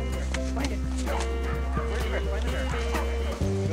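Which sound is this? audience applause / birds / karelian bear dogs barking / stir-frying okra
karelian bear dogs barking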